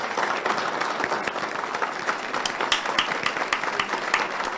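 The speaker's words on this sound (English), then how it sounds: "Freedom clap." Crowd applause at a political speech event, a dense, steady wash of many hands clapping at fairly close range with a few sharper claps standing out, continuing alone without talk.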